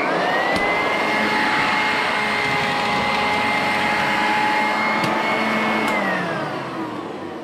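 A Sanitaire SC888 upright vacuum cleaner runs steadily at close range, its loud, continuous motor whine holding a constant pitch throughout with no talking, easing slightly toward the end.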